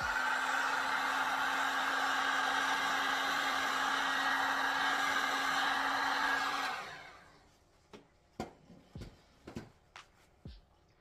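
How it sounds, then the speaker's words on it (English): A heat gun blows a steady, close whooshing hum over epoxy resin and glitter for several seconds, then shuts off and winds down, leaving a few faint clicks and taps. "Take my heat gun too."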